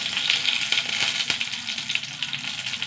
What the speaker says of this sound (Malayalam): ഇനി ഇത് ചൂടാവണമെങ്കിലോ കുറച്ച് കടുക് ഇട്ട് കൊടുക്കുക.